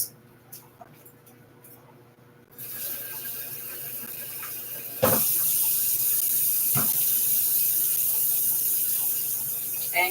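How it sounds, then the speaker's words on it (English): Tap water runs into a kitchen sink to rinse a bowl while cooking stovetop short beef ribs, a steady close broadband rush starting partway in, with a couple of brief clanks of the bowl against the basin. "Let's give it a rinse."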